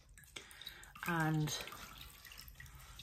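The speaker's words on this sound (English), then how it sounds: "I'm gonna dampen it in the little bowl of warm water I have here" A cleansing mitt is dipped and dampened in a small bowl of warm water, giving a short splash and trickle heard close up, with a person talking around it.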